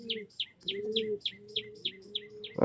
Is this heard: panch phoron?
no